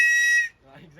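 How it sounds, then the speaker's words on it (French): A shrill, steady whistle blast from the whistle on a Beuchat spearfishing harness sounds loudly for about half a second, then cuts off into faint low noise. "si vous êtes en bateau, vous avez le sifflet juste là"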